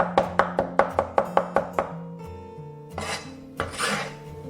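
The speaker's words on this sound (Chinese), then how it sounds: "稍微再给它剁细一点" A knife minces green and red chilies on a chopping board with about nine quick, evenly spaced, close chops. These are followed by slower, scattered knocks and scrapes.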